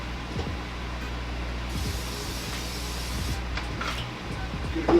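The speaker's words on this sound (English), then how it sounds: "Get a little spray on that." Cooking spray hisses over rinsed pork chops set for broiling, a short, close, breathy burst of spray in the middle of the clip over a low kitchen background hum and a few light knocks.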